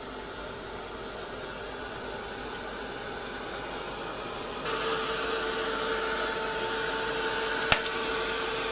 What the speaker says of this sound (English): Give it just a quick blast with the heat gun